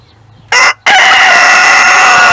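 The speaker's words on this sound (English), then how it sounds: "I got him crowing." A rooster crows loudly and close by in a garden, a short burst followed by a long sustained crow after a brief gap.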